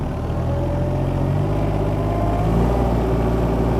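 The diesel engine of a 15-year-old Yanmar VIO20 mini excavator runs steadily at working RPM, a loud continuous low rumble and hum close by with no break.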